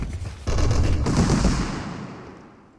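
Rapid, sustained machine gun fire in a Quake duel match, a loud continuous burst that cuts in after a brief lead-in and then tails off toward the end.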